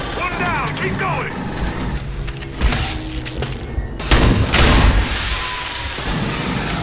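Explosion in the video game Aliens: Colonial Marines: a heavy booming blast erupts amid rumbling combat noise and scattered impacts, fairly loud and close, with voices talking around it.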